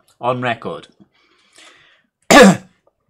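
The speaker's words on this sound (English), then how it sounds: "coughs get left in" A person gives a short vocal throat-clearing sound, then after a pause lets out one sharp, loud cough up close in a quiet room.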